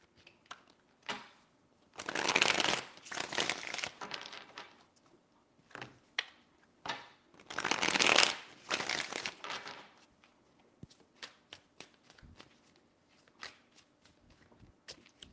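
Tarot cards being shuffled by hand, two long loud riffling bursts with scattered taps and card handling between them, close and without talk.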